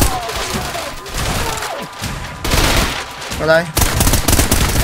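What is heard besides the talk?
gunfire from a gun in video game Trepang2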